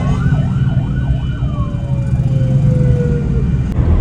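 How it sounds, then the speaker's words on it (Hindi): Ambulance sirens wail on a street in Islamabad as emergency vehicles head toward an attack site; one siren sweeps up and down, then a long falling tone, over loud traffic rumble nearby. "हर हॉस्पिटल, बड़े से बड़े और छोटे से छोटे हॉस्पिटल की एम्बुलेंसेज जो है सारी, और प्राइवेट भी सारी इस तरफ"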